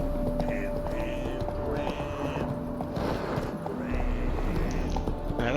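A horse galloping in The Witcher 3: Wild Hunt, steady rhythmic hoofbeats over a continuous game soundscape, with a voice talking over it throughout.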